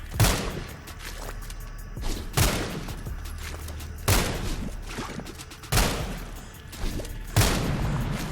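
Repeated heavy spread-weapon blasts from the snut gun fire in the video game SULFUR, five or six booming shots at irregular intervals over a steady low rumble, each loud and close with a short decaying tail.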